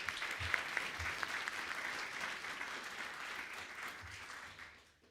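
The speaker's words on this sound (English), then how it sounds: "Can we give Mark a round of applause?" Steady applause from a crowd, fairly faint and distant, holding for several seconds before tapering off at the end.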